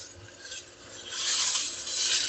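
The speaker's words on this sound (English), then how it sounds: "Just going to kind of mix that around a little bit." A spatula stirring ground beef and onions browning in a pan for chili, a close, continuous scraping rasp against the pan bottom that grows louder and busier partway through.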